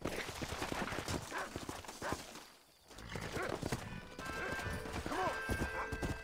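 Horse hooves clip-clopping steadily in the Red Dead Redemption video game, a close rhythmic trot that pauses briefly midway, then resumes, with a whinny and faint voices mixed in.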